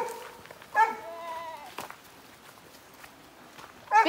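Farm donkeys give a few short, harmonic calls at close range, one near the start and another at the end, with quiet shuffling and rustling in between.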